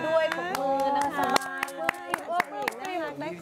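Scattered hand claps ring out in a Thai television news studio, sharp and intermittent, mixed under a presenter talking throughout.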